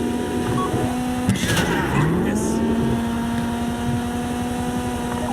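Engine of a Kuruma car in GTA V Online during a heist drive, a loud steady motor drone with a shifting pitch and a brief squeal of tires partway through, with no talk over it.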